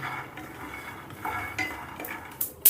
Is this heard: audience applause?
no